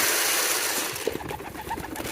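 Pigeons coo softly in a coop during morning feeding, low murmuring calls over a hissy background, faint at first and slightly clearer later, with no speech.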